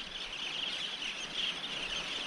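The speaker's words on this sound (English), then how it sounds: "Look at all the birds." Many birds on a white sand island, crowded together at low tide, chirping and calling in a steady, dense chorus throughout, with no talking.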